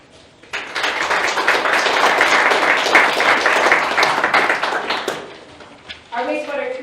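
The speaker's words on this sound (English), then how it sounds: "I'm going to give them a round of applause." At a city council State of the City address, a room applauds the engineering department: a burst of crowd clapping swells, holds for about five seconds, then fades as a speaker resumes talking.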